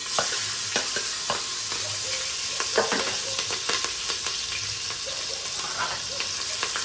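Finely chopped green chillies sizzle in hot ghee for sambar rice, a continuous close frying hiss broken by irregular stirring clicks and scrapes of a spoon against the pan.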